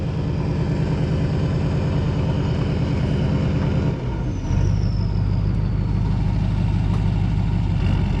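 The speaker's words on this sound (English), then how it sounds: "He's gonna pull forward so that he's out of your way." A tow truck's engine runs loud and steady as the truck pulls forward, a heavy low rumble that shifts into a deeper, stronger drone partway through, with no voices over it.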